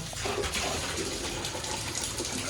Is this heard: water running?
yes